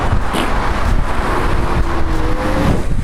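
Segway Ninebot F2 Plus electric scooter riding along an unpaved dirt road, heard as a steady loud rumble of tires and wind buffeting the microphone, with a faint whine rising in the background.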